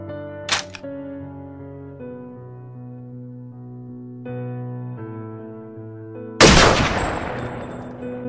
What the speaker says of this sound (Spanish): sin pensarlo dos veces disparó directo hacia la torre